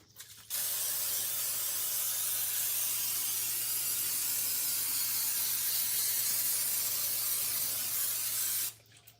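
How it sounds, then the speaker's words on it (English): A single continuous hiss of an aerosol cooking spray, steady and close for about eight seconds, starting and stopping abruptly. "Forgot I got the oil spray."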